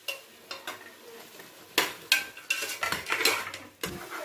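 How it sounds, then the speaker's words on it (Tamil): A spoon scrapes and clanks against a pressure cooker while stirring vegetable biryani masala with tomato, green chillies and salt, giving irregular close metallic knocks over a faint sizzle. "உப்பு போட்டு நல்லா கிளறி விடணும்."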